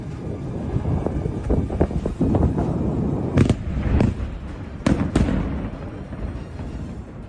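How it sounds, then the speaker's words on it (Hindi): Repeated explosions from drone and bomb strikes: several sharp blasts, two close pairs in the middle, over a steady rumbling, wind-like background. "काफी देर तक धमाके की आवाज आती रही, एक के बाद एक विस्फोट होते रहे।"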